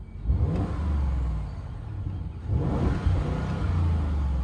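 A 2021 Audi SQ7 engine revs twice, each burst rising in pitch and then settling back to a low idle rumble, close and loud.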